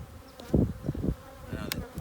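Honey bees buzz around a beehive in spring, close and loud, with a few bees droning past in quick overlapping swells.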